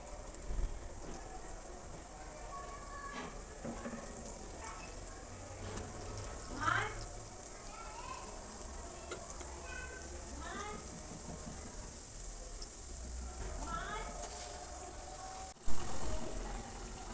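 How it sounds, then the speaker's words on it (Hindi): Murali, sweet shakarpara dough sticks, frying in hot oil in a home kitchen, giving a steady close sizzle with soft bubbling that runs throughout, with faint talk in the background. "मुराली हमारी अच्छे से फ्राई हो रही है।"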